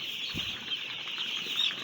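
A brief rustle of wings flapping near a quiet hum, a short burst of fluttering from birds in a coop.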